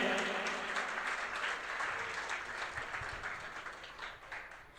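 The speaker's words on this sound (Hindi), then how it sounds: "आप सभी के लिए एक बार जोरदार तालियां हो जाए" A youth festival audience applauds in a hall, a soft, dense patter of clapping that is fairly distant and gradually fades over a few seconds.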